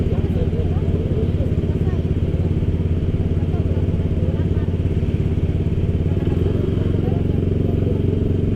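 Motorcycle engine droning steadily and loud while pulling away in dense night traffic, a continuous rumble with road noise and faint clatter throughout, no clear pauses.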